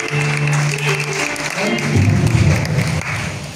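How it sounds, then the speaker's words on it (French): An audience at a religious gathering bursts into applause, a dense wash of clapping that swells midway and carries on under background voices and music. "Acclame."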